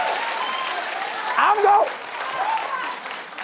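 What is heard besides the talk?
studio audience cheering and applauding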